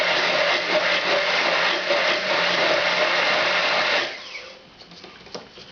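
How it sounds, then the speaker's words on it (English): An electric blender whirring as it blends cooled oil with garlic, a loud steady motor buzz that runs for about four seconds before cutting off, leaving faint clatter. "Put that in there and blend this with the garlic."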